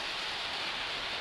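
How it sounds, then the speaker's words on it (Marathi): A sudden downpour of rain falls steadily, a dense, even hiss of drops that holds constant at moderate loudness throughout, with no talking. "पुन्हा पाऊस चालू झालं."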